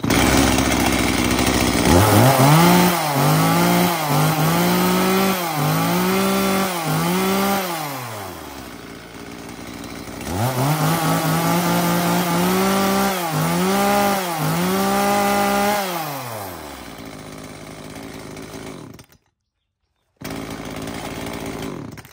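An Echo chainsaw runs loud and close, its engine revving up and down in repeated bursts, then idling, with a second round of revving and a short cutout near the end.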